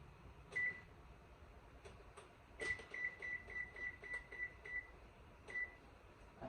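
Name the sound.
oven timer beeping as it is set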